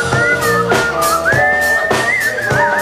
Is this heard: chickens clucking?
no